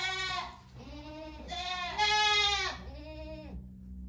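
A goat bleats close by in several long, wavering cries, each rising and falling, with a low hum underneath.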